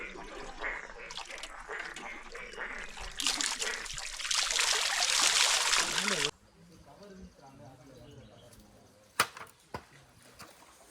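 Cold spring water is poured for bathing at Andi Sunai on Velliyangiri hill. A few seconds of loud, close splashing and pouring give way to quiet dripping and scattered small splashes.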